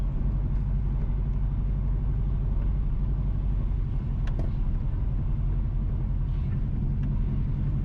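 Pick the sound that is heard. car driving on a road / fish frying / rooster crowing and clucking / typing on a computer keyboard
car driving on a road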